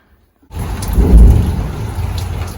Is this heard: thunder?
yes